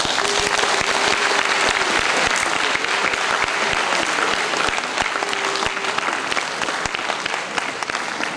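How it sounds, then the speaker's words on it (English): Dense, sustained applause from an audience at an international sustainable development presentation, loud and continuous from start to finish with little speech. "A round of applause for Ifayemi Elebubon"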